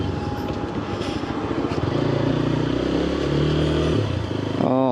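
A motorcycle engine runs steadily close by, its low drone rising slightly in pitch toward the end as the bike revs, with faint clattering mixed in.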